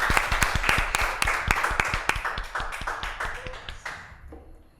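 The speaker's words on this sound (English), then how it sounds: "Why not clap for him then?" An audience at a school quiz contest bursts into brisk applause, many hands clapping fast and close, the sound tapering off toward the end.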